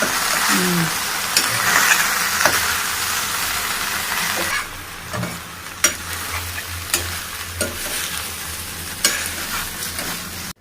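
Vegetable biryani mixture being stirred in a pot with a green chilli, coriander, mint and onion paste, giving a steady sizzle with scraping spoon strokes and a few sharper clinks of the utensil against the pot.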